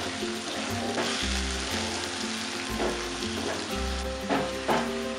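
Tomatoes fry in a prawn masala for a Koli-style dry tiny prawn dish, with a continuous close sizzle broken by repeated stirring scrapes, no talking.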